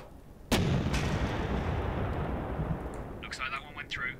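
A tank gun fires in the WW2 tactical strategy game The Troop: one sharp, loud blast followed by a long rumbling decay, with faint game effects chirping near the end.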